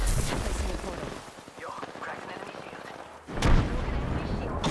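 A grenade blast booms in the Apex Legends battle-royale shooter, a sudden loud burst near the end of a stretch of gunfire, with players talking over the game sounds.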